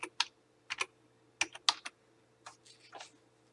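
Keys clatter on a computer keyboard in short bursts of typing, with separate clusters of keystrokes and brief pauses between them over a low steady hum.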